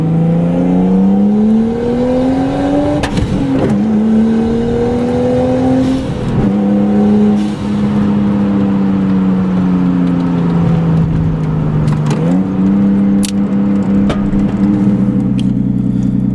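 A Nissan R32 Skyline drift car engine revs steadily and continuously while drifting, pitch rising and dipping as it's pushed hard, with occasional tire squeals and clunks over the sustained drone.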